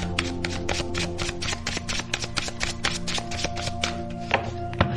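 Tarot cards are shuffled and drawn at close range, a quick run of crisp riffling snaps and taps with a steady tone humming underneath.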